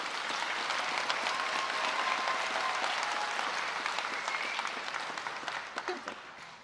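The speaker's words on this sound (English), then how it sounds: "Please give a warm applause to our wonderful staff." Warm audience applause for school staff at a high school graduation ceremony, a steady full crowd clap lasting several seconds before thinning into a few scattered claps at the end.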